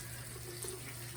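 Hot water runs from a tap into a sink in a steady, quiet stream, a soft continuous splash with no talking.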